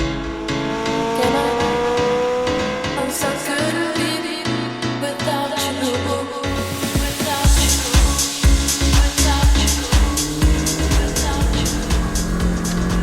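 A McLaren 675LT sports car, the track-focused derivative of the 650S, drives with a loud engine that builds and revs in rising sweeps, with sharper bursts and gear changes later on, heard from on board during a fast ride.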